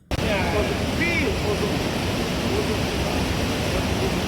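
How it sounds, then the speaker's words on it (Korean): Strbacki Buk, a multi-tiered waterfall of three or four cascading drops, roars as a steady, dense broadband rush that stays loud and unbroken throughout, with no voices over it. "3단, 4단 폭포로 해서 계속 폭포가 이제 계속되고 있는 그런 모습이었습니다"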